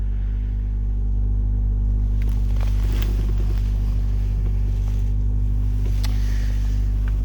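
A 2014 Honda Civic Si idling in 16-degree cold after a cold start, a steady loud low rumble with constant engine hum and faint occasional clicks, no talking.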